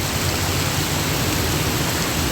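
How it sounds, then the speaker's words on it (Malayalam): Heavy monsoon rain on a road between villages, a dense, constant roar of downpour with no breaks, loud and close throughout. "നല്ല മഴ പറഞ്ഞാൽ പെരും മഴ"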